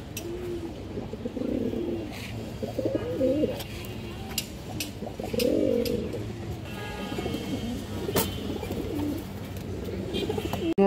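A large male Kaldam pigeon coos in repeated deep, throaty rolling phrases, close by, with sharp clicks and faint background noise between calls.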